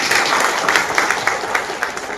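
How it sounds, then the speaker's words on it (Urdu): Meeting audience breaking into loud, dense applause, close and continuous with sharp clap bursts across the whole moment. "زوردار تالیوں سے آپ ایک بار"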